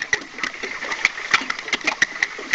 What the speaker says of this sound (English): Man-made sound of a boat motor.